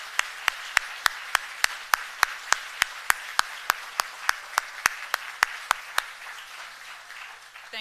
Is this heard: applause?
yes